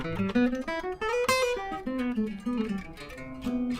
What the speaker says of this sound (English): If I play a major 7